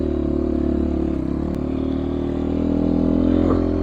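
A 2022 GPX FSE300R motorcycle on a trail in first gear under engine braking gives a steady, close engine drone with a harmonic whine and constant rumble, plus a brief clatter, with no talking.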